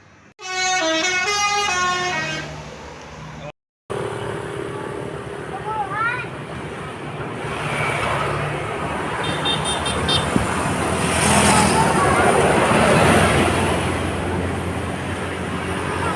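Musical telolet horn of a Basuri bus sounding in a parking area, stepped melodic tones first, then a loud busy stretch of engine and road noise with further horn bursts and people's voices.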